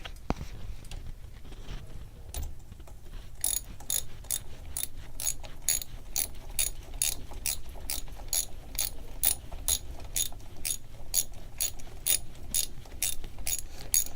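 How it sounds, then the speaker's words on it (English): Ratchet wrench tightening a bottom bracket bolt on a bicycle, starting with a few scattered clicks and settling into a steady run of quick, close ratcheting clicks for most of the stretch. "Put the bolt in, hand tighten it, take your wrench,"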